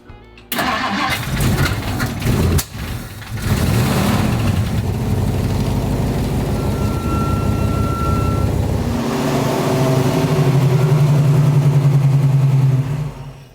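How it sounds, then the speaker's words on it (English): A 1965 Ford Mustang engine cranks and catches, then idles and revs as the car is driven into a backyard, loud and close with a steadier, louder idle near the end. "Let's bring the car into the backyard and get to work."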